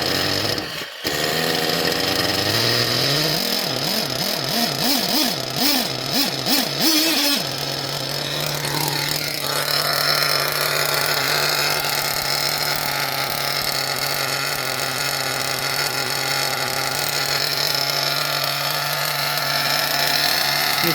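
An RCR-modded Alpha .28 nitro engine fires up with a loud, high-pitched buzzing whine, revving and wavering at first, then settling into a sustained scream, close.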